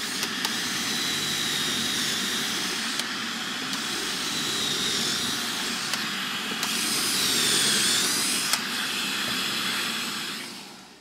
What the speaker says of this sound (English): We have all of our pocket holes drilled into our upright struts here.